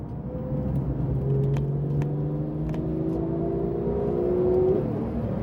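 Porsche 911 991.2 GT3 engine on the road, revving up through rising pitch sweeps with gear changes, a steady mid-distance drone heard from a following car, no talk.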